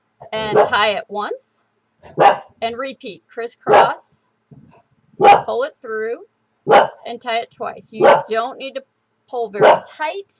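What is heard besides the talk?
dogs barking after the doorbell rang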